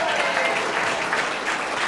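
Studio audience applause at a late-night comedy show, loud and steady throughout with a dense wash of clapping and light cheering.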